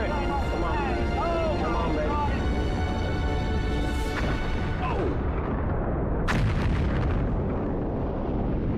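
An Atlas rocket fails and explodes during launch with a dense, continuous roaring blast and crackling bursts, heavy and loud throughout, with a sharp burst near the end amid archival-style audio.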